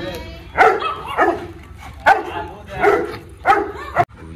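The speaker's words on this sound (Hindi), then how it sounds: "आते ही भौंकने स्टार्ट।" A Labrador mix dog barks sharply about six times in an uneven rhythm, loud and close, with short pauses between the barks.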